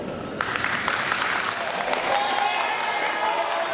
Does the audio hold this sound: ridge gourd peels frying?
no